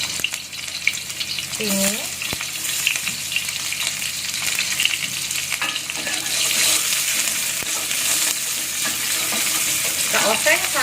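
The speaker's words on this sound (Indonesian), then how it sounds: "Kita oseng sampai bawang merahnya harum ya." Shallots sauté in about six tablespoons of hot oil in a pan, a loud continuous sizzle with occasional stirring clinks, close up, and a voice speaks briefly near the start.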